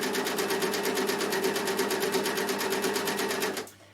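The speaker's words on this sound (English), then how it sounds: "What I've done is I've just rolled my cutting width up so it's a little bit wider, so my overlocking fills in all of my fabric." A Bernina overlocker runs steadily, stitching along a fabric edge for a scarf with a rapid, even mechanical chatter at close range, then stops abruptly near the end, leaving silence.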